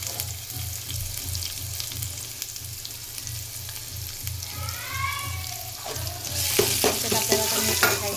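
Onion sizzles in a hot pan for a Maharashtrian val (field bean) birda curry, a steady fry hiss with a low hum beneath, then louder crackling and splattering near the end as the pieces hit the oil.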